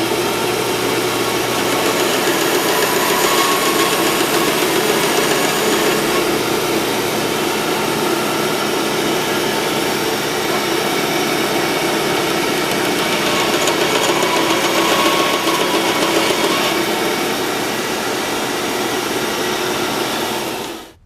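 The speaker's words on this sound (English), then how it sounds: "All right, bandsaw time" A bandsaw cuts through plastic dirt bike hand guards, producing a loud, close, continuous mechanical roar and whine that holds steady for about twenty seconds before abruptly cutting off, with no talking.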